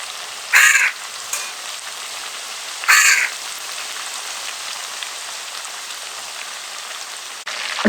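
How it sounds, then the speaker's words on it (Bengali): KFC-style coated chicken pieces fry in oil at a steady medium heat, giving a continuous soft crackling hiss with a couple of brief louder bursts near the start. "চিকেন ফ্রাই অর্ধেক ভাজা হয়ে গেছে"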